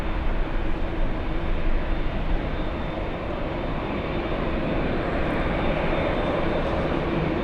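A Boeing 757 taxiing at LAX airport produces a steady, loud jet engine drone with a constant low rumble and faint high whine, holding level and close throughout.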